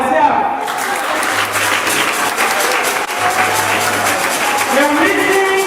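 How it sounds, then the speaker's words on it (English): Women of a political gathering in Liberia clap for themselves in sustained, busy applause from a crowd, with voices and a speaker's amplified talk running underneath. "Clap for yourself."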